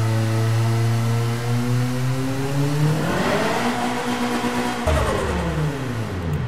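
A stock turbocharged four-cylinder car engine in the racing video game Apex Point revs loudly, climbing in pitch through the gear and then dropping at a shift before rising again.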